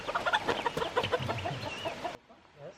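A flock of farm chickens clucks busily and close by in quick, overlapping calls that fade out near the end, with no speech.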